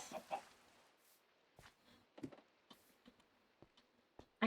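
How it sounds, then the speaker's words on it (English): Chickens cluck in a video game farm setting with a small wheat field, giving a few short, soft bird calls scattered over quiet background ambience. "So I have chickens."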